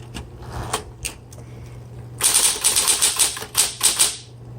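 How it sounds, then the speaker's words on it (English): Typing on a 1970s Smith Corona Electra 120 electric typewriter under a steady motor hum: a few scattered keystrokes, then a fast, loud run of sharp clacks close by. "This is a 1970s Smith Corona Electra 120."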